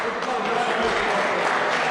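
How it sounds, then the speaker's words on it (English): Cricket crowd at a first test match applauding a good final delivery, a steady broad wash of clapping heard at a distance throughout, with no distinct voices above it. "Listen to the applause."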